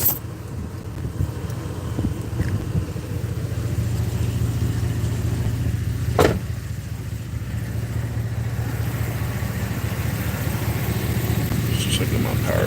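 A GMC engine idles steadily nearby with a low, continuous hum and some rattle while the power steering is being checked, with one brief sharp clunk midway.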